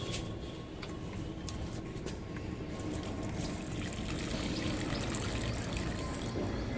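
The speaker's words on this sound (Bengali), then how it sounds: "দেখো এবার জল দিয়ে দেবো" Water poured steadily onto the soil of a young mango sapling set in a crate, a continuous close trickling and splashing with no break.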